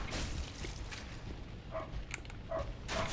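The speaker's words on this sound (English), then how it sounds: "Why the dog is barking like crazy." A dog barks outside a window in a string of short, sharp barks spread across a few seconds, moderately near and standing out over a low background hum.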